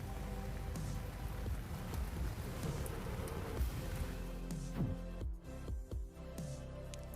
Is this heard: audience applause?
no